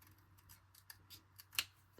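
Scissors snip around a stamped paper card, a series of soft close crisp cuts in an uneven rhythm, quiet and alone.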